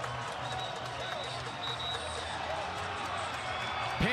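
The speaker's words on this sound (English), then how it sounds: "Pandemonium, the crowd has woken up." Crowd cheering at a college lacrosse game between Penn State and Johns Hopkins, a sustained roar of noise after a goal, with a commentator talking over it.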